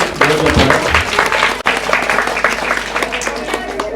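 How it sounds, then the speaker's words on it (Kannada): A crowd bursts into applause, sustained clapping from many hands close by, with a brief interruption midway before continuing. "ನಮ್ಮ ಚಪ್ಪಾಳೆ ಜೋರ್ ಚಪ್ಪಾಳೆ"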